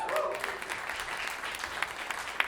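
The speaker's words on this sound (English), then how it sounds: "Give an applause for Trevor for getting a bench from downstai" Steady applause from a small group at a stand-up comedy event in Provo, a dense patter of claps holding at moderate volume for a couple of seconds.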